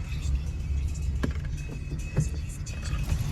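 A newly bought family car being driven, with a steady low engine hum and road rumble throughout, a few faint clicks and knocks, under people talking inside.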